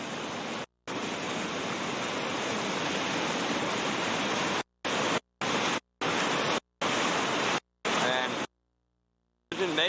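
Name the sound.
river rapids pouring over a big drop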